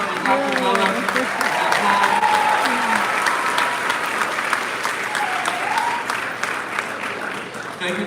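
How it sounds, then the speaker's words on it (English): Graduation ceremony audience for the class of 2022 applauds loudly and steadily for the full length, dense clapping filling the hall with a few voices and cheers rising above it. "Another round of applause for Dr. Miller."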